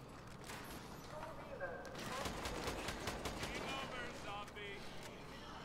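Lynx rifle firing in Call of Duty: Advanced Warfare Exo Zombies, a steady run of rapid shots that fills the clip at moderate loudness, with a voice talking over the gunfire.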